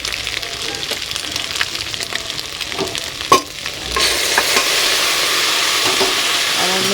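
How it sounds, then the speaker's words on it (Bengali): Maggi noodles frying with egg and potato in a pan, a steady close sizzle with stirring scrapes and a sharp clank partway, the frying growing louder and denser in the second half. "এবার ম্যাগিটা দিয়ে দেবো।"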